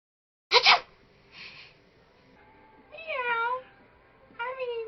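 A person mimics a cat's meow as a joke sneeze, giving two close, voiced meow-like calls with pitch bends after a short sharp burst and softer noise, with no other talk.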